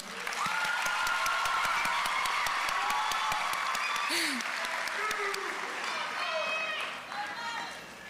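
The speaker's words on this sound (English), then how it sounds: "can we give a well-deserved round of applause to all the graduates that sit before us today?" Large crowd applauding graduates at a high school graduation ceremony, a dense sustained clatter of many hands with scattered cheers and voices mixed in, fading toward the end.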